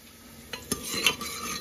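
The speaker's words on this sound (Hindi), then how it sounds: "पहले इनको अच्छे से भून लेंगे।" Rice roasting in half a spoon of ghee for kheer, light stirring scrapes and soft taps of a spoon against the pan over a faint sizzle, close and quiet, no talk.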